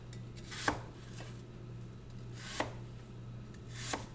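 A knife slices through apples in three spaced, faint cuts over a quiet steady hum, with each stroke producing a soft crisp crunch.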